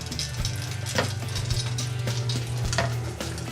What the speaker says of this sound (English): you want to hear that sizzle when you drop them